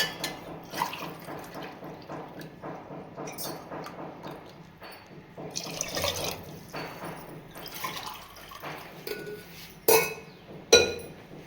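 Liquid splashes and drips as 2.5 cups of water are poured into a metal pressure cooker amid soft clinks, ending with a couple of sharper metallic knocks.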